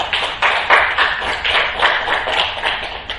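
A church congregation claps together at a Wednesday worship service, giving applause to glorify God. The clapping is loud, dense and sustained, with rhythmic surges and no voices over it.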